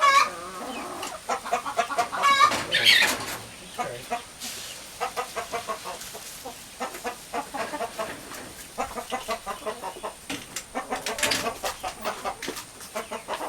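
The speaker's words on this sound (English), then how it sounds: "We get our little chicks." Young farm chicks cluck and cheep in quick repeated bursts at feeding time, close and busy, with a person speaking now and then among them.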